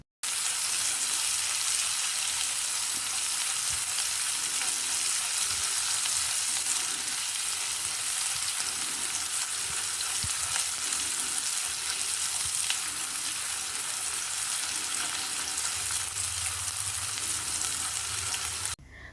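A loud, unbroken sizzle fills the clip as spice paste with dried shrimp fries in a pan for mie goreng, with occasional scraping from stirring and no talk.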